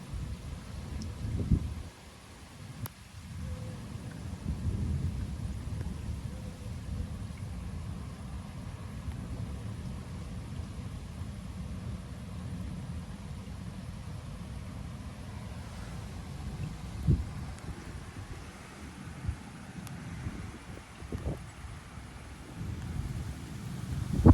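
Thunder from a violent July thunderstorm over Metz rumbles low and fairly close, with heavy rolling booms early and scattered lower rumbles over steady outdoor background noise for about twenty-four seconds.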